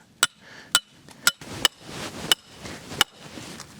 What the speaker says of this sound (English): we want to take our anchor, and it fits into the groove on our ground rod driver. Right there. And drive it into the ground.